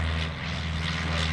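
Piper Cub propeller plane performing a comedy act at an airshow, its engine droning steadily and loudly with a constant hum throughout the brief stretch.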